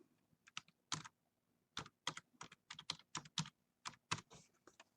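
Fingers type a customer number and password on a computer keyboard, the sound coming as quick clusters of crisp, close key clicks with short pauses between bursts in an otherwise quiet room.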